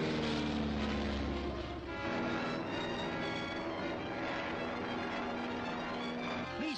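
A propeller airplane engine drones steadily in flight, a loud continuous roar with a lower rumble in the first seconds and a brief tonal swoop at the very end.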